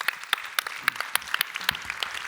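Audience applause during a French round-table event, with distinct sharp claps standing out above a steady patter of hands over a couple of seconds, moderately quiet and with no voices over it.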